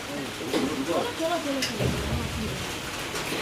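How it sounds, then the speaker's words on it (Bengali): Steady rain falls throughout, a dense hiss with soft patter, while a few voices murmur faintly in the background. "বৃষ্টি কিন্তু সেই হচ্ছে"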